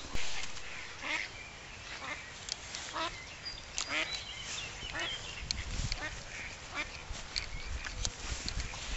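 Ducks quack near water in a loose, irregular series of nasal calls at moderate distance, some overlapping, with a low rumble of background noise underneath.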